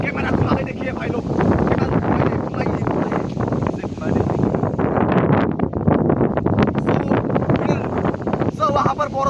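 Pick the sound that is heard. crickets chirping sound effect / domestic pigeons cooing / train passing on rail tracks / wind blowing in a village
wind blowing in a village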